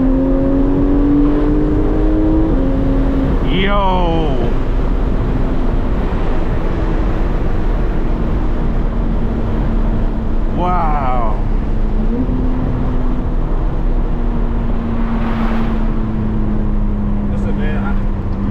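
A Porsche 911 GT3 engine with only an aftermarket muffler rises and falls in loud revving sweeps heard from inside, with excited voices briefly exclaiming between the pulls.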